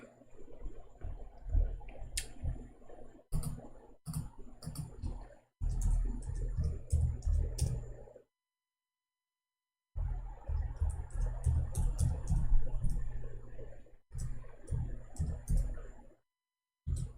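Clicky keystrokes tapped on a computer keyboard in irregular bursts, fairly close and moderately loud, with a few short pauses and a longer silent gap midway.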